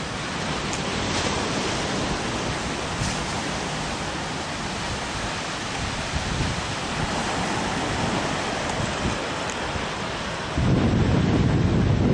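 Sea waves at Samila Beach in Songkhla, Thailand, a steady, dense wash of surf and wind that holds constant throughout and swells louder near the end, with no voices.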